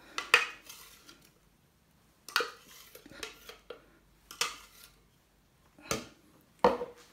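A utensil clinks and scrapes against a bowl while salt cod is mixed with chili, garlic, onion and parsley, giving scattered, sharp taps and knocks with quiet gaps between them.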